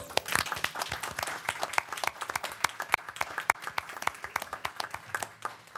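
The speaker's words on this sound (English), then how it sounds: "I would ask that we give them a round of applause." Applause from attendees at a county commission general session, sharp individual claps standing out over a moderate, steady patter from a smallish crowd, continuing evenly throughout.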